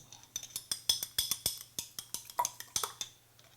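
A metal spoon clinking and tapping against a dish in a kitchen, a quick irregular series of sharp close clinks, around a dozen, with short gaps between.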